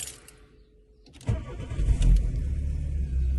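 A 25-year-old Volkswagen Golf Mk3 GTI with the 8-valve engine cranks briefly after a quiet moment, catches and settles into a steady idle, heard close by.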